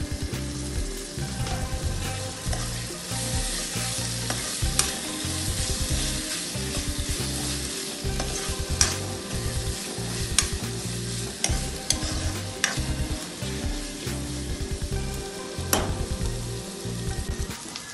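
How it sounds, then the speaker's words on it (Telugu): Capsicum sizzles in a pan with fried ginger and garlic for pav bhaji, a steady crackling fry broken by rhythmic scraping stirs, close and fairly quiet with no talk. "జింజర్ గార్లిక్ ఫ్రై అయినాక క్యాప్సికమ్ వేసుకోవాలండి."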